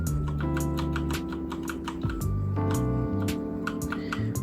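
Typing on a Havit HV-KB435LB mechanical keyboard with Outemu Brown switches, steady close keystroke clicks in an irregular rhythm over continuous background music.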